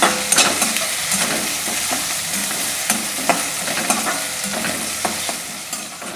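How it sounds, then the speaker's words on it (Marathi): Onion sautés in hot oil with a steady, bright sizzle while a spoon stirs and scrapes the pan in frequent sharp clicks, close and loud, with no one talking. "कांदा पण छान गुलाबी रंगावर परतून घ्यायचा।"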